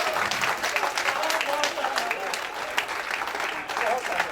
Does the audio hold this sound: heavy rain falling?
no